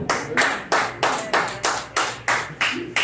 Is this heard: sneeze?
no